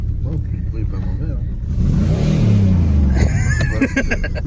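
Engine of a 1992 car revving, a deep rumble swelling and rising in pitch mid-way before settling, loud and close, with people talking over it.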